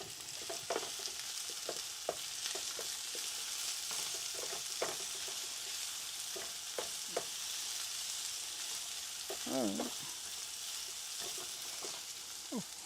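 Onion frying in a pan for potato bhaji over raised heat, a continuous soft sizzle with scattered spatula taps and stirring clicks, no voices.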